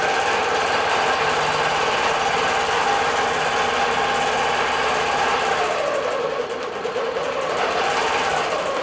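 Bernina Q24 longarm quilting machine stitching a digital design across a quilt, a steady, loud mechanical hum with rapid needle chatter that runs continuously, shifting slightly in pitch as the carriage moves.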